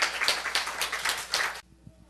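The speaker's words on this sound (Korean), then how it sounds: "우리 하나님께 박수 올려드려요" A short burst of lively clapping from a small church congregation, ending abruptly into near silence with a faint thump or two.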